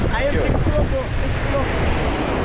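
Ocean waves break and wash on a beach in Kerala, India, a loud, close, continuous surf roar mixed with wind buffeting the microphone and faint voices.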